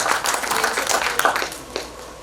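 An audience at an India-UAE economic partnership conclave announcement ceremony claps together in a dense burst of applause, fading slightly toward the end.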